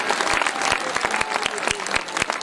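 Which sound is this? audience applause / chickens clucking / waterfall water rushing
audience applause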